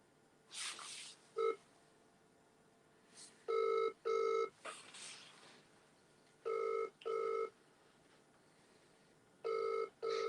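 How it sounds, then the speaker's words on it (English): A phone call goes unanswered as the ringback tone sounds in evenly spaced double bursts, repeating several times at a moderate, slightly distant level with quiet gaps between. "And she's not answering the phone."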